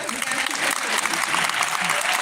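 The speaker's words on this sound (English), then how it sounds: "come on, let's clap" An audience at an award night breaks into loud, sustained applause, a thick wash of clapping with crowd noise and voices mixed in.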